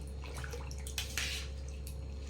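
Mango seed kernels are stirred in salted water in a bowl with a soft, close sloshing and swirling, a steady wash of water and a brief splashy swell in the middle, with no talk over it.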